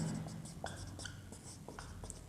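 Chalk or marker scratching on a board during a Hindi civics lesson, producing short, faint strokes in an irregular rhythm with soft speech-like murmurs underneath in a quiet room.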